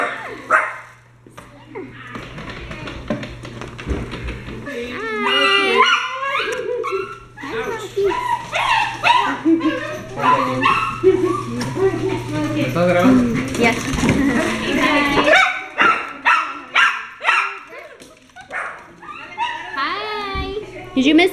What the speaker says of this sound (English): And my dog's getting all crazy.